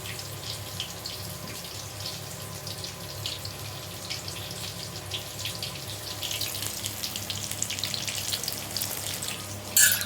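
Hands being washed in a bowl of water in a home kitchen while making mirchi bajji, a continuous soft splashing and trickling with a sharper slosh near the end, no voices.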